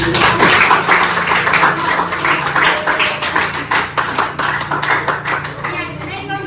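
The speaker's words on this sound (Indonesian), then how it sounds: "Kita beri aplaus dulu" Classroom applause at a high school, SMA Negeri 1 Mimika, with dense, rapid clapping from many hands for several seconds before it thins and fades out, and some voices mixed in.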